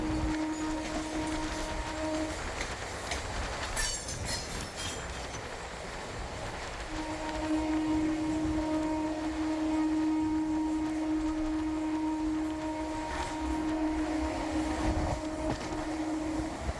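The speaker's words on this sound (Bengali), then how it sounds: "আমাদের ট্রেন সাঁতরাগাছি স্টেশন ছাড়ার পরে 66 কিলোমিটার পার আওয়ারে ছুটতে থাকলো।" A Howrah–Jaleswar MEMU local train runs at about 66 km/h after leaving Santragachi station, with a steady rumble and wheel noise and sustained horn-like tones that drop out briefly midway and then return.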